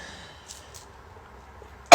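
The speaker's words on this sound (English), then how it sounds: "I gotta clear my throat, sorry." A single loud throat clearing comes abruptly at the very end after near silence, close and sharp.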